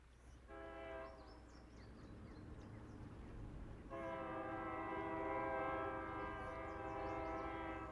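A train rolls along the tracks while its horn sounds in two long, steady blasts at moderate distance, with a low rumble beneath throughout.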